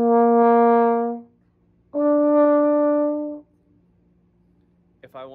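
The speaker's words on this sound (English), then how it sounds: "To play higher sounds on the trombone, I'm going to use faster air and firmer lips." A trombone plays two sustained notes, the second pitched higher and blown with faster air and firmer lips, separated by a short silence; a voice starts speaking right at the end.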